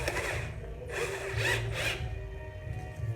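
A cordless electric screwdriver working on a Britânia fan gives a few short, close whirring bursts with pauses between them, quiet and without talk.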